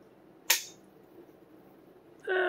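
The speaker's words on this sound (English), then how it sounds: "But here's the trigger." The trigger of a Hi Point carbine snaps in a single sharp dry-fire click, loud and close in an otherwise quiet room, followed by a brief softer mechanical noise.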